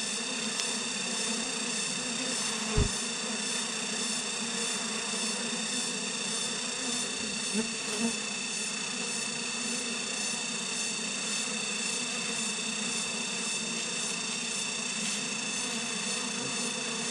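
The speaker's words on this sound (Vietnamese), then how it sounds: "Đang dập ong này cả nhà," Wild honey bees swarm in a forest with a dense, steady buzzing that holds loud and continuous throughout, broken only by a few faint knocks.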